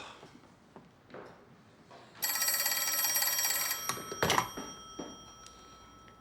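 An old-style telephone bell rings in an office, one sustained metallic trill of about two seconds rising out of quiet room noise, followed by a clunk as the receiver is lifted.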